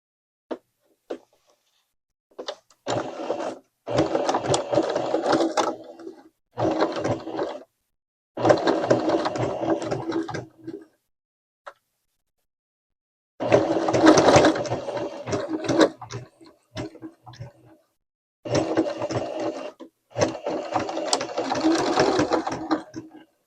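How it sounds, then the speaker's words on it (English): A sewing machine stitches a pen loop for a Traveler's Notebook in a series of rapid whirring bursts of a few seconds each, separated by short silent pauses, close and moderately quiet. "I had to cut scene because my sewing machine"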